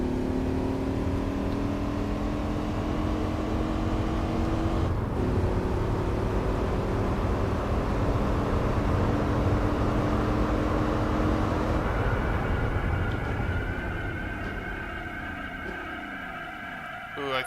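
Modded engine sounds from a car in Gran Turismo 4, a steady droning whine that shifts pitch partway through and climbs again as the car accelerates, loud and continuous with no talk.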